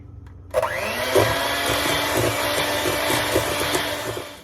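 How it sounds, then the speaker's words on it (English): Electric mixer creaming butter and sugar for cupcake batter starts abruptly after a brief silence, then runs as a loud, close, steady whirring drone with a slight rising pitch and faint rattles, no voices. "I'm going to cream this for about 3 minutes till it gets lighter in color, a little bit fluffier, and it doesn't sound gritty"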